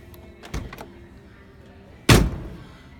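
Door of a 1957 Ford Thunderbird swinging shut with one solid, close thunk, preceded by a few softer clicks and handling noises.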